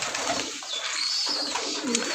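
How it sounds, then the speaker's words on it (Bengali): A domestic pigeon of a coloured fancy breed gives soft, throaty coos close by, set against a busy background of other birds chirping. "এই যে কবুতরটা দেখতে পারতেছেন"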